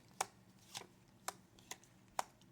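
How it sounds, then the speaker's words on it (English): A deck of tarot cards being cut and handled, giving five sharp, crisp card snaps spaced about half a second apart, close and fairly quiet, with no talking over them. "Cutting the cards, and let's go."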